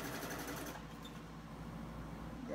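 A sewing machine stitching a quilted table runner hums in a fast, even running whir, starting brighter and settling into a quieter steady drone throughout.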